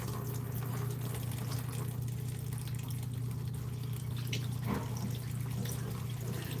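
Water trickles and pours faintly while hair is being washed, a soft, continuous splashing with occasional drips over a low, steady hum.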